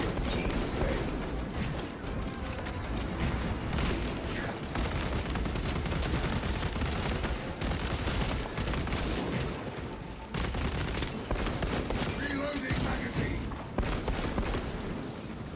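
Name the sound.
bolt weapon gunfire with cracking rounds in Space Marine 2 video game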